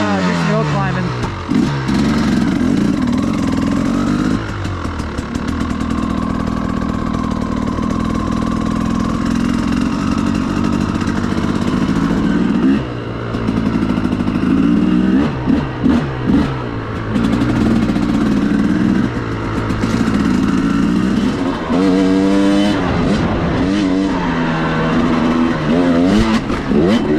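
A KTM 300XC-W two-stroke dirt bike with a carburetor and an RK Tek head runs loud and close, droning steadily with repeated revs and throttle blips, and someone talks over it.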